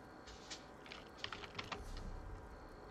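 A cat plays with clicking toys indoors, producing a scatter of light, quick clicks and taps, faint and irregular, some in small clusters, over a steady low background hum.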